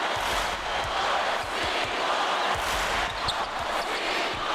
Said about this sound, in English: Oh my God, the crowd is so loud